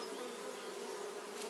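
Honeybee colony humming steadily at a Kenyan top-bar hive in sunshine, a continuous close, even buzz of many bees with no voices.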